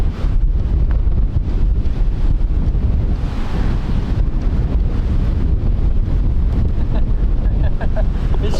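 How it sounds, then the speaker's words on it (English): Strong wind gusts across an open golf course, buffeting the microphone in a loud, continuous roar that swells and eases throughout. "I felt a gust of wind that was gonna make it go slower"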